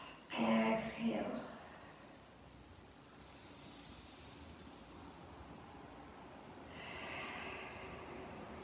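Breath exhaled during a beginners' Zen yoga practice, a short audible outbreath near the start, then a quiet soft rushing that swells again toward the end.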